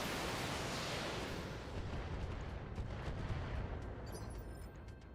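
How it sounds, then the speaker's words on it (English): Missiles fired at an enemy Merkava tank in the BattleTech video game, a loud, continuous broadband roar of launches and explosions that fades slightly toward the end. "Just lob a bunch of missiles at him"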